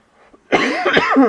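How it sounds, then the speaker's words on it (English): After a faint breath, a single harsh, close cough from a man with a slight cold bursts out and trails into a rough throat-clearing sound. "Sorry, you're gonna have to bear with the coughing."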